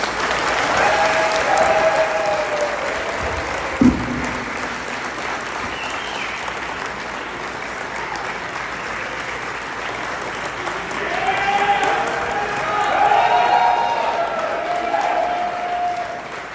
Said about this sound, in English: please put your hands together for the most talented team in nuclear